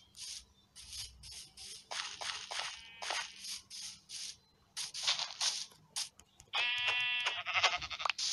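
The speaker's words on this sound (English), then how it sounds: "there's even black sheep" Sheep in Minecraft, including a black sheep, bleat in a series of short, nasal calls at irregular intervals, fairly close, with a longer wavering bleat near the end.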